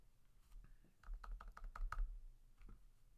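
Quick clicks of typing on a computer keyboard come in a close, fairly quiet burst of several keystrokes, with a couple of isolated taps before and after.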